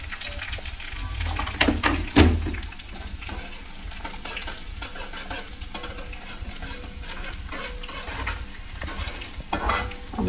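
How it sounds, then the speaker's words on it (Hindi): Onion fries in oil in a pan with a steady sizzle under frequent scraping stir strokes, including a loud clatter of the utensil on the pan early on, all close and without speech. "तेल में जो है हमारा ये कांदा फ्राई हो रहा है"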